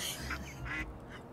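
Duck quacking in the video game Little Kitty Big City, three or four short nasal quacks in quick succession over a soft game background.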